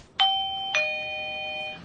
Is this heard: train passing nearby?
no